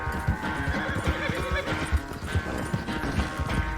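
A horse in Red Dead Redemption 2 whinnies loudly while its hooves clip-clop at a gallop in a steady rhythm, close and prominent throughout.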